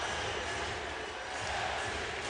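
A basketball arena crowd in Los Angeles cheers and rises to its feet, a loud, continuous roar filling the whole moment with no break.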